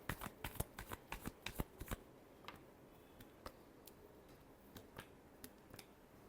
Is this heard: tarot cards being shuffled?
yes